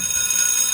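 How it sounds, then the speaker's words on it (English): A brief alarm sound effect played on a podcast: a steady, shrill, buzzing ring that holds unbroken and loud for under a second, with no talk. "need that ring alarm."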